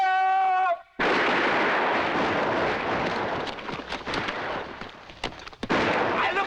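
Period musket and cannon volley fire in a Revolutionary War battle, a sudden loud booming blast right after a shouted order, followed by rolling crackle and scattered sharp shots fading through the smoke.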